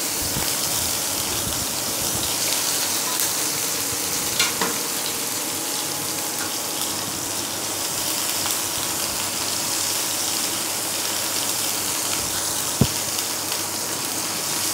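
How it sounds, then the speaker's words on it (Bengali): Chopped onions frying in a pan for a Bengali banana flower cutlet, a steady dense sizzle and crackle that holds at one level throughout, with a few faint clinks of a utensil and no talking. "পেঁয়াজটা দিয়ে দিচ্ছি। পেঁয়াজটা একটু ভেজে নেব।"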